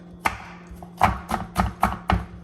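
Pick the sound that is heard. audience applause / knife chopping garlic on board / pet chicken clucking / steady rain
knife chopping garlic on board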